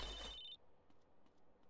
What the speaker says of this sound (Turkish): Az önce bir telefon geldi de yanlış enter'a bastım.